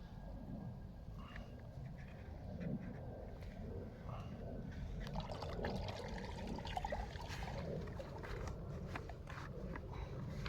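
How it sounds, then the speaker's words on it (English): Water sprays and trickles out of a corner while wild clay is pressed, giving a steady, moderately loud wet hiss with scattered splashy handling noises throughout. "See the water spraying out that corner."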